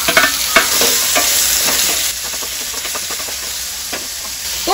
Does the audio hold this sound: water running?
no